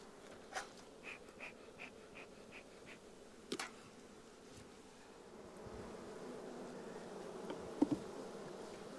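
A soft, low hum of honeybees buzzing nearby as they are moved, with individual bees whirring past in short bursts and an occasional faint knock.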